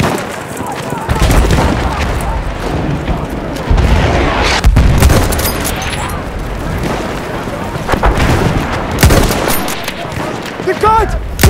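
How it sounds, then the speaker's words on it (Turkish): Repeated booming blasts and gunfire in a Turkish-language military shooter game as a grenade is thrown, loud and dense throughout, with speech over the battle noise. "Bomba atıyorum, çabuk olun!"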